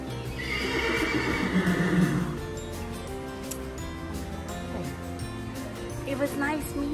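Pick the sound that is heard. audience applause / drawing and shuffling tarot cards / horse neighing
horse neighing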